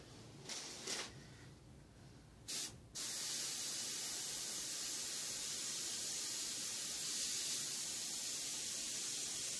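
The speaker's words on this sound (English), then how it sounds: "I'm just holding down the trigger and spraying." A few short bursts of hissing spray, then a long continuous airbrush hiss as paint is sprayed, steady and close.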